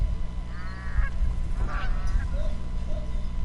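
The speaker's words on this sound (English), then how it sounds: "This is a fucking Canadian goose, you know, the geese that attack people" A Canada goose honks in the Horizon Zero Dawn video game, a few nasal calls spaced over a few seconds, clear and fairly close above a steady low in-game ambience.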